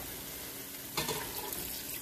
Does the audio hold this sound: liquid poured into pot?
yes